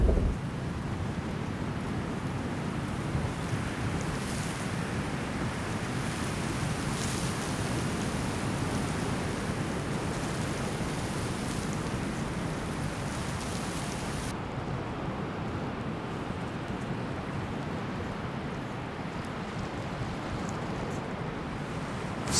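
Strong wind buffets across Seilebost beach in the Hebrides while a rain squall passes, making a dense, continuous roar with gusty rushes, near and loud and without any voices.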